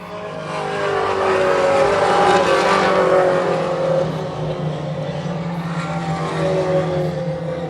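Four-cylinder race cars lap a track in a pack, engines droning and rising and falling as they pass, forming a continuous loud mechanical blend with no talk over it.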